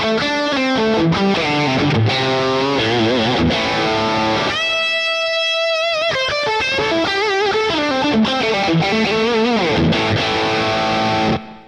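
Electric guitar played through a Boss Katana amplifier with the gain turned up, heard alone as continuous loud distorted chords and riffs with a brief sustained ringing chord midway, cutting off at the end.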